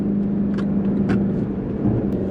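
Engine of a 2021 Lexus LC 500 Convertible while driving, a steady low drone with a humming tone, close and continuous under faint road and wind noise, no voices.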